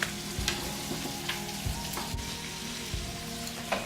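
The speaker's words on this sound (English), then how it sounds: "we just kind of put this in the pan and kind of spread it around just a little bit" Mixed nuts toast in a dry pan, giving a steady close crackle with intermittent soft knocks and scrapes as they are spread around, with no talking.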